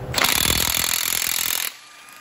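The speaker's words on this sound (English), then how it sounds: "enlist the help of a half inch impact." A half-inch impact wrench rattles in a loud, rapid hammering burst for about a second and a half on a 5.3 LS engine during a rebuild, then cuts off abruptly.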